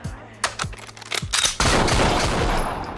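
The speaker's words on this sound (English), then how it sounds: "The sound of bullets hitting the floor makes everything so much more tactile." Gunfire crackles in a City Hunter action scene as spent bullet casings clink onto the floor: a few sharp bursts and metallic tinkles, then a dense, sustained rattle of shots.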